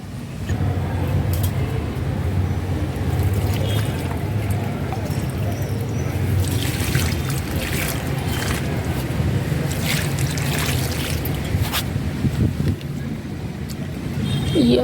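Water trickles and pours steadily into potted aglonema plants on a terrace garden, a continuous close-up splashing and gurgling flow that holds at an even level throughout, with no talking.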